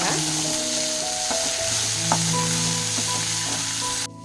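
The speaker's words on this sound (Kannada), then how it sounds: "ಈರುಳ್ಳಿ ಒಂದು 5 ಮಿನಿಟ್ಸ್ ಚೆನ್ನಾಗಿ ಫ್ರೈ ಮಾಡ್ಕೊಳ್ಳೋಣ" Onions frying in a pan with curry leaves and coriander for a chutney, a loud, steady close-up sizzle with a few soft clinks, cutting off abruptly at the end.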